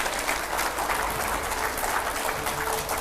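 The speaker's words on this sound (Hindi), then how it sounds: "जोरदार तालियों से स्वागत करिए" A television studio audience claps for a guest's arrival, dense and steady applause throughout without a break.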